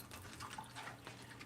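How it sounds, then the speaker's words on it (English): A small decorative indoor waterfall runs with a soft, steady trickle and faint droplet splashes, quiet and continuous. "Now I'm going to try to make sure that my waterfall is not too loud."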